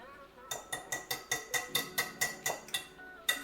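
A wire whisk beats a mixture in a bowl for olive bread, about a dozen quick, evenly spaced metallic clinks against the bowl, close and fairly quiet.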